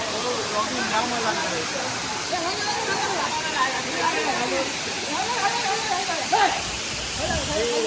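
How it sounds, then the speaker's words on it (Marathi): Steady roar of Nhavankond Waterfall in Devgad, Konkan, with water pouring from above, constant broadband rushing, loud and continuous throughout; faint voices may be buried in the noise. "वरनंच पाणी पडतं."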